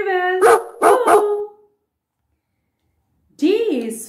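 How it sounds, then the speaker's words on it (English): A dog barks three times in quick succession, loud and close, then falls silent before a final longer bark near the end. "D is for dog. D, D, dog. Dog is a domestic animal. The dog sound is,"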